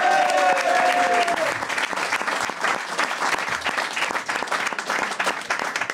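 An audience on a French TV show claps for a band, a dense burst of applause that holds strong throughout, with a brief voice-like tone near the start.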